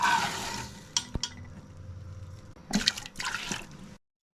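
Water splashes and pours into a metal pressure cooker holding soaked chana dal in a few short bursts, with clinking and quiet gaps between pours.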